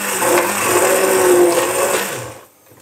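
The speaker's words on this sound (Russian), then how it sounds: "Вот блендер погрузили," A handheld immersion blender whirs loudly and steadily as it runs submerged in soup, then winds down and cuts off near the end.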